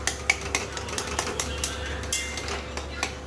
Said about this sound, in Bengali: চিংড়ি মাছটাও দেবো এর সাথে কষাবো একটু লাউটা কষিয়ে নিই তারপরে